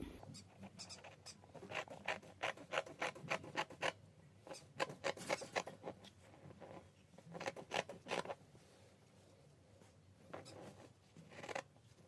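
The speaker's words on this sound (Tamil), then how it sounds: "9 இன்ச்சுக்கு நம்ம வந்து இங்கே வந்து கட் பண்ணிக்கலாம்." Scissors snipping fabric to cut out kids' palazzo pants: a series of quiet, close, rhythmic crisp cuts in bursts with short pauses between, faint and without talk over it.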